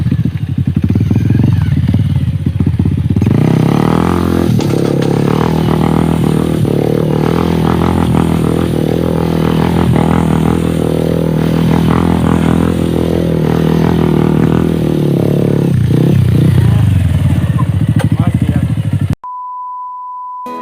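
A modified Bajaj Pulsar 180 motorcycle with an Akrapovic exhaust revs loud and close during stunt riding, its engine note rising and falling in repeated throttle blips before cutting to a brief electronic beep at the end.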